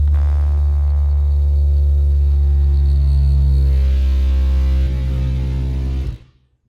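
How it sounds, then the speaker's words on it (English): Bench-top vapour blaster with its pump and agitator running, a loud, deep, steady motor hum with a buzzing drone that shifts slightly partway through before shutting off abruptly near the end. "Probably going to be quite loud with this pump setup,"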